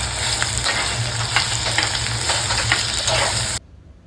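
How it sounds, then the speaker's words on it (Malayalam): Cumin, curry leaves and small shallots sauté in coconut oil for a Kerala chicken curry, giving a dense, close, continuous sizzle with stirring scrapes that cuts off abruptly near the end. "കുറച്ച് വെളിച്ചെണ്ണ ചേർക്കുക അതിലേക്ക് കുറച്ച് ജീരകം കുറച്ച് കറിവേപ്പിൻ്റെ ഇല അഞ്ചെട്ട് പീസ് ചെറിയ ഉള്ളി കൂടി ചേർത്ത് നന്നായി വഴറ്റുക"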